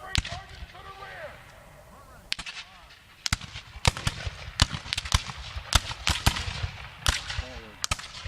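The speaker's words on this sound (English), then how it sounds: "Keep firing." Rifle volleys at a Civil War reenactment at Appomattox ring out as a series of sharp, loud cracks, some close and some farther off, irregularly spaced across the field, with commands shouted between them.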